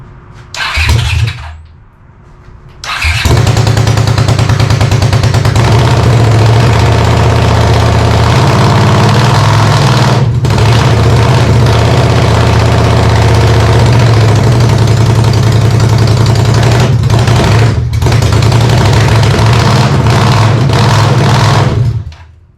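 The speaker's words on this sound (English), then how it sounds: "It's obviously very loud. There's no mufflers on it. But it runs." Honda CX500 motorcycle engine with no mufflers cranks and fires after a brief attempt, then runs loud and raw at a steady rumbling idle close by, cutting off at the end.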